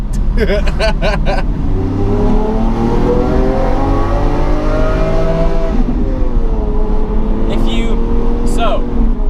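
A Lamborghini Aventador drives on an ordinary road, its engine droning loudly from inside the cabin with shifting revs and a gear change partway through, while people talk over it.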